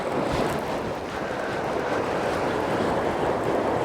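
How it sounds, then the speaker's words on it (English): Sea waves wash steadily along the Bristol Channel shore on an early morning tide, a continuous broadband surf roar with gusts of wind buffeting the microphone throughout. "Look at the waves. It's beautiful."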